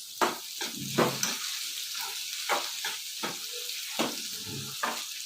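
Ingredients for radish chutney sizzle and fry steadily in a hot pan, with repeated stirring scrapes and clinks giving a bursty rhythm over the continuous close hiss.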